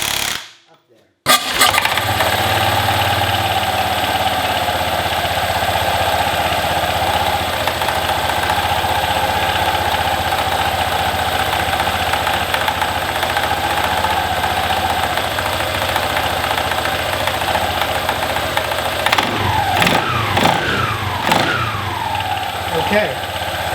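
A Honda PCX150 scooter engine started up and running steadily after a drive belt and slider weight change, a loud even buzz close by with a few revs near the end.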